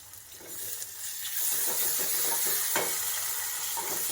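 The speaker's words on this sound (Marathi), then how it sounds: "इथे कांदा घालते गॅस थोडा कमी ठेवते कांदा हलकासा फ्राय झाला की टॅमॅटो घालून घेते" Chopped onion fries in oil in a pan over lowered heat, giving a close, steady hiss and sizzle that builds and holds, with light stirring scrapes throughout.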